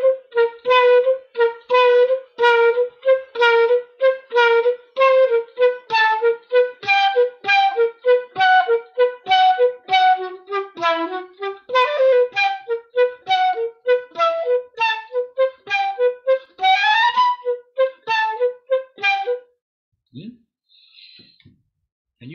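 A tango study in a 3-3-2 rhythmic formula, in Piazzolla style, is played as a long, fast run of crisp repeated notes with strong accents, close and unaccompanied, ending with a few faint sounds.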